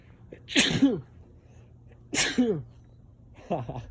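Two sharp sneezes about a second and a half apart, close and loud, followed by a quieter stretch of speech.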